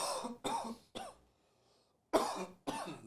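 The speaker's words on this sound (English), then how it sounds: "I'm gonna cough." A person coughs several times in short harsh bursts, close and fairly loud, with a quiet pause in the middle; the coughing follows a vaporizer dab.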